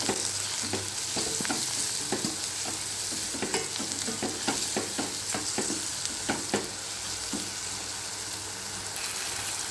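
A spoon stirs ridge gourd curry seasoned with turmeric in a frying pan, scraping in an irregular rhythm over a steady close sizzle, with no talking.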